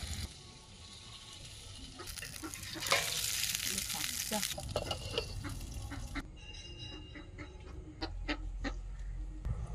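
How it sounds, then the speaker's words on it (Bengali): Fish curry cooks in a pan with eggplant, spices and water, giving a soft steady sizzle and frying crackle with occasional stirring clinks and a brief louder hiss partway through. "সাধারণ মশলা কষে নিয়ে তাতে বেগুন দিয়ে কিছুটা জল আর শেষে ভেজে রাখা মাছগুলো দিয়ে দিলেই মোটামুটি রান্না শেষ।"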